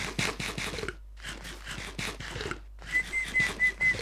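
A person whistling in short bursts separated by silent gaps, with a thin steady tone near the end, faint and close, accompanied by light scraping noises.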